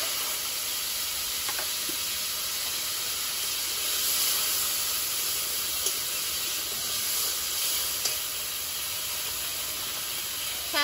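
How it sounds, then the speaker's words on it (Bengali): Potatoes fry in oil in a kadai as the first step of a Bengali prawn curry, giving a quiet, steady hiss and sizzle throughout with a few faint pops and no talking. "প্রথমে আলুটা ভেজে নেব"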